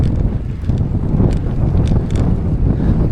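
Strong wind blows outdoors in a park, buffeting the microphone in a constant loud roar with rumbling gusts, heard alone without speech.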